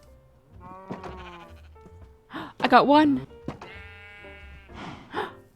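Minecraft sheep bleat in a cozy autumn world, several wavering nasal cries clustered in the middle and again near the end, mixed with soft game thunks while a voice speaks briefly.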